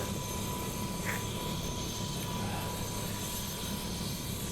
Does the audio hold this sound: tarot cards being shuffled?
no